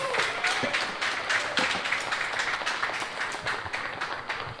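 A live show audience applauds the performer Assassin, a sustained patter of many clapping hands with some sharper individual claps, moderately loud and continuous.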